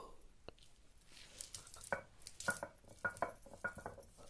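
Masala being ground by hand on a stone slab (pata-varvanta) in a village kitchen, heard as a series of short, close scraping and knocking strokes in an uneven rhythm, fairly quiet with no voices.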